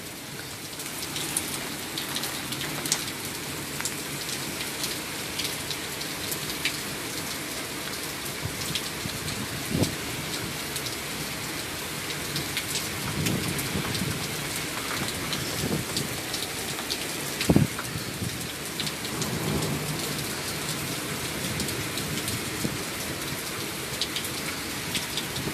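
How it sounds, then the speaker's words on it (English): Heavy rain pours onto a porch during a stormy night, a dense steady hiss of drops on the surface with occasional louder splashes and a faint distant thunder rumble, no talk. "my feet are soaking wet because the rain is coming on the porch"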